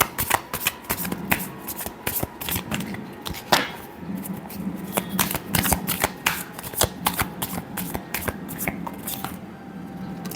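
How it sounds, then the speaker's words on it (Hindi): Tarot cards are shuffled by hand in a quiet room: a long run of quick, crisp riffling and slapping bursts in irregular rhythm, close and moderately soft, with no speech over them. "last shuffle"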